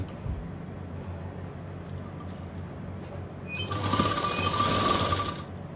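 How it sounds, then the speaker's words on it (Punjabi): A sewing machine stitches a shirt sleeve, a quiet mechanical hum that turns into a brief loud rapid whirr of stitching near the end, with no talk. "ਇਦਾਂ ਆਪਾਂ ਇਹਦੀ ਸਲਾਈ ਲਾਉਣੀ ਹੈ"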